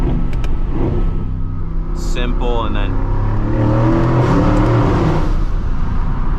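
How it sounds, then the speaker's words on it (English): Sports car exhaust downshifting and revving inside a tunnel, a BMW M5 or Mercedes-AMG GT S in sport mode, loud and booming with rising engine tones, heard from the cabin while someone talks over it. "The exhaust on this is brutal and loud, very, very loud."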